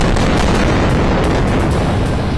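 Bomb explosions in Gaza, reported as chemical or phosphorus bombs, a loud, dense barrage of booming blasts and crackling bursts filling the whole stretch without pause.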